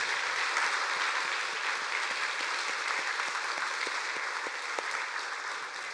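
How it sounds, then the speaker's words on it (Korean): A church congregation claps heartily during a Sunday worship service. Many hands make a sustained, even wash of applause that fills the sanctuary for several seconds, with no talking over it. "이 본당이 다 떠나가도록 우리 힘차게 한번 박수 한번 할까요? 박수."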